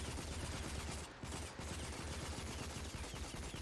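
Automatic rifle fire in the video game Rage, a continuous rattling burst of rapid shots with a brief dip midway, fairly faint and unbroken by speech.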